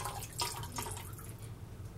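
Water running or pouring into a measuring jug while making classic white bread dough, a soft steady liquid trickle with light splashes that continues evenly for the whole stretch, close and fairly quiet.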